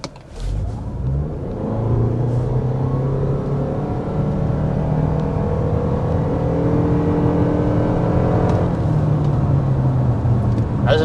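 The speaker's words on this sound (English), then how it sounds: "There's another acceleration. That time we were in the sport mode." A 2026 Toyota RAV4 XLE hybrid accelerating in sport mode, its engine note rising in a steady droning whir heard from inside the cabin, with a brief shift in pitch near the end.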